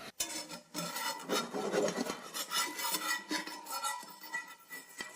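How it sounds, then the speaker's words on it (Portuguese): A frying pan holding browned potato rösti is tapped and shaken on the stove, giving a run of close metallic rattles, rasps and scrapes with a few sharp knocks, and no talking. "eu sempre dou uma batidinha no fogão até soltar, assim"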